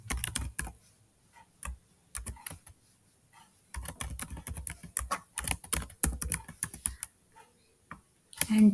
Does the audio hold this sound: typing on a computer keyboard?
yes